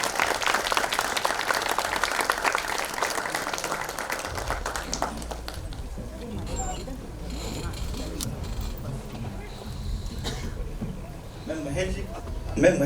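Loud applause and scattered clapping from the audience at a Marathi film trailer launch, strong for the first few seconds, then fading into lower crowd murmur and chatter with a few lingering claps.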